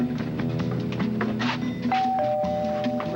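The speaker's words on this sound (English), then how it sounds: "Get the doorbell" A doorbell chimes in a television studio house during a live season finale broadcast, clear tones ringing over a busy background of crowd noise and movement.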